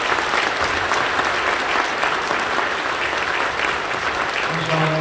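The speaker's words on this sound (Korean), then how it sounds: "우리 직분자를 위해서 박수 한번 해주겠습니다" Congregation applause for newly appointed church officers during an ordination thanksgiving service at Incheon Full Gospel Church, a dense, sustained wash of clapping across the hall, with faint tones entering near the end.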